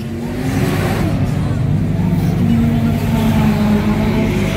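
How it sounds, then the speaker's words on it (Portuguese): Drift car engine in Japan, a steady loud idle and rev with a droning low tone that rises slightly midway, close up and continuous, with faint voices behind. "como que é um carro de drift aqui no Japão"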